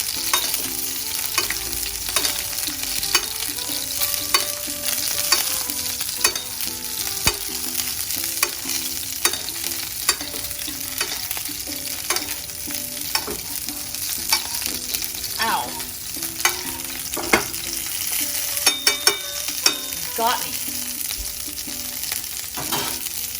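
Salmon fries in a pan while being basted with hot oil, giving a continuous close sizzle broken by scraping and spooning clicks throughout, with no talking.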